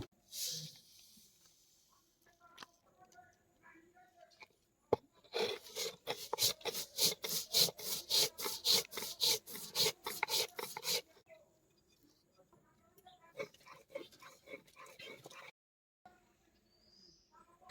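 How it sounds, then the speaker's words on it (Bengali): Poppy seeds being ground into a paste for a coconut mustard pangas recipe, a burst of rapid rhythmic rasping strokes, close and fairly loud, with quieter scraping before and after. "আমরা এখন পোস্তটাকে বেটে নেব"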